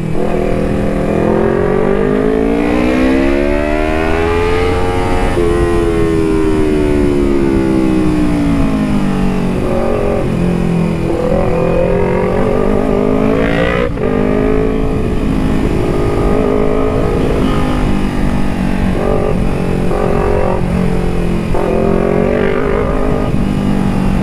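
Kawasaki Ninja 250 2018 motorcycle accelerating with a quick shifter: a loud, close engine note rising and falling in pitch through repeated gear shifts, with wind roar throughout over about twenty seconds of riding.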